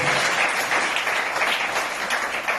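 An audience claps in steady, dense applause, sustained and fairly loud for the whole stretch, with no other sounds on top.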